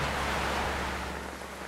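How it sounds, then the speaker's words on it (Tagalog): Steady broadband rain beating down outside a house, a dense continuous hiss with a low rumble beneath, even and unbroken throughout, no talking. "Nabot naman po kami ng ulan dito sa inyo."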